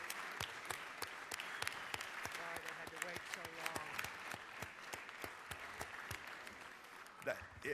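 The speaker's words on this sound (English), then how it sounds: "If you would join me in rising and giving applause" Applause from a gathering in a state House of Representatives chamber during a legislative session, a dense, steady patter of many hands clapping for several seconds, moderately distant, with a few voices mixed in near the end.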